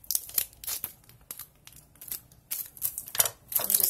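Scissors snipping through paper for a collage on a traveler's notebook cover, a quick irregular series of crisp cuts and rustles, close and fairly loud, with short gaps between.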